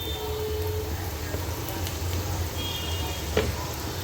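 Chopped onion sizzling and frying in hot oil for a Tamil dosa recipe, a steady soft crackle under a low background hum, with a faint clink near the end.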